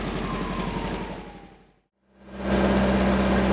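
A 1969 Volkswagen dune buggy's rumbling engine revs and idles up close, fades to a brief silence, then returns louder and steady as the buggy drives.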